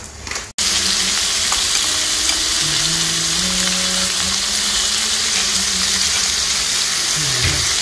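Beef, abalone and mushrooms sizzle steadily in butter on a grill, a dense continuous frying hiss that runs close and loud after a brief quiet start, with a few faint tones and stirring noises underneath.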